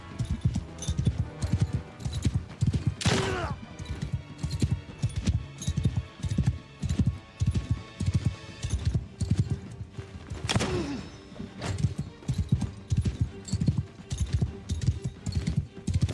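Horse hoofbeats in the video game Bannerlord, a steady galloping clip-clop pounding close and loud throughout, with two sharp whinnies breaking in over the rhythm.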